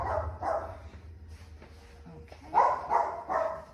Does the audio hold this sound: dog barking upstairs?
yes